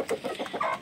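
Chickens clucking close by while eating feed, a quick run of short, rhythmic clucks ending in a louder one.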